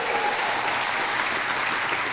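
Steady, dense audience applause fills the room continuously at an even volume, with no voices audible.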